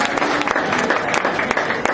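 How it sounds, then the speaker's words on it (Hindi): An audience in a hall in Raipur, at an evening Sindhi music event, gives a short burst of steady, dense clapping. "इसके लिए जोरदार तालियां हो जाए आपके लिए भी"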